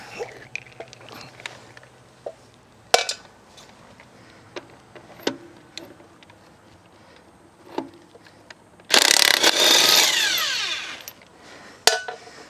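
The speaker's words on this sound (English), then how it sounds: "I find these DeWalt battery impact wrenches to be quite good" A DeWalt battery impact wrench with a 21mm socket removes nuts on a Nissan Pathfinder during rear brake work, mostly a long, loud, near hammering burst mid-way, with shorter clanks and tool knocks before and after.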